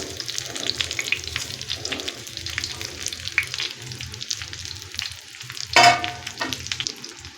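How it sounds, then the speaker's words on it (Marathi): Colocasia rolls (alu vadi) coated in gram-flour batter fry in hot oil and are turned over. A steady crackling sizzle runs throughout, with one louder scrape and splash about two-thirds of the way through, and no talking. "आता हे असं हलवून घ्यायचं सगळीकडून गरम तेल असतं ते वड्यांना लागतं"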